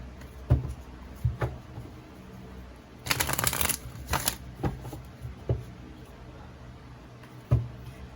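Tarot cards are shuffled and drawn: soft taps and flicks of handled cards, then a dense burst of riffling in the middle, all close and fairly quiet with no voices.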